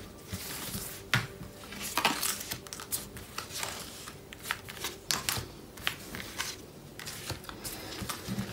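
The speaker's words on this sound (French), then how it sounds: "on va sortir 5 cartes pour le Capricorne qui est en couple" Tarot cards shuffled and drawn by hand, with a busy run of close riffling, snapping and light slapping of card stock, irregular bursts of crisp clicks and rustles with no talking.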